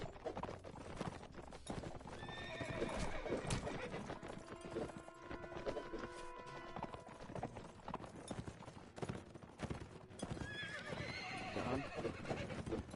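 A horse from Mount & Blade: Warband gallops with steady clip-clop hoofbeats and whinnies loudly, set within dense, continuous game sound.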